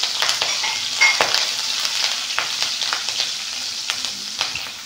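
Cumin, pepper and chilies frying in a pan with a steady close sizzle, punctuated by light stirring scrapes and occasional pops throughout.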